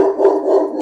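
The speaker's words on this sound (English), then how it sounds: "Sorry about the dogs." Several household dogs bark sharply and continuously in a short, close, loud burst indoors, with no speech over them.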